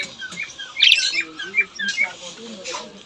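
A pet cockatiel calls with a series of close, sharp chirps and squawks over a few seconds.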